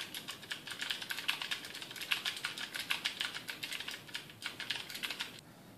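Cherry MX Blue switches on a Razer Orbweaver mechanical gaming keypad clack in a rapid, dense stream of clicky presses as keys are button-spammed, steady and close throughout with no voices.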